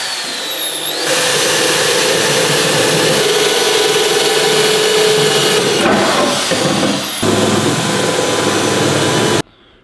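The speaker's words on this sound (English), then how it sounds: "So right now I'm going to get drilling holes." A loud, sustained mechanical whine of a power drill boring holes in metal runs almost continuously, briefly dipping twice before cutting off abruptly at the end.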